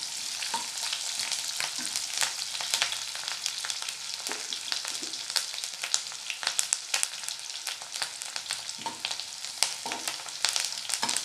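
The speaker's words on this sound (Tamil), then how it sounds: "வெங்காயம் இஞ்சி பூண்டு எல்லாம் வதங்கிடுச்சு" Onion, ginger and garlic sauté in a pan, with a continuous soft sizzle and frying crackle and occasional scraping stir sounds. It is close and quiet, and no one speaks.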